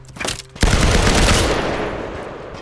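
Gunfire in the Firewall Zero Hour video game, a loud, close burst of rapid shots that cuts in suddenly after a brief quieter moment, then rings out and decays over the next couple of seconds.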